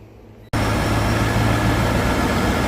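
A swapped-in Cobra engine in a Mustang GT, short on fuel pressure, fires up after a brief near-silence and settles into a loud, steady, low rumbling idle close by.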